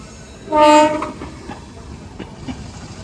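An Indian Railways train's horn blasts once, loud and brief, followed by the steady rumble and clatter of the train approaching on the tracks.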